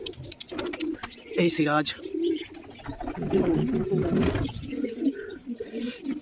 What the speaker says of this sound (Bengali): এই যে আমার একটি দেশি পায়রা